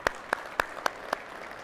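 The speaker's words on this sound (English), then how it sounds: "Let's give Dave a round of applause" Hands clap at a shareholders meeting for a speaker named Dave: five sharp, evenly spaced claps ring out close and distinct over a quiet room rather than a dense ovation.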